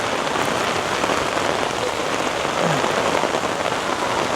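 Heavy downpour in downtown Toronto: dense, loud rain drums steadily on surfaces, with a gusting wash of wind and no speech.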